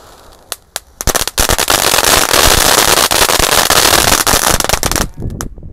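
A fountain firework (mercon) burns outdoors in strong wind, starting with a few sharp pops and then breaking into a loud, dense, continuous crackling spray that lasts about four seconds before tapering off.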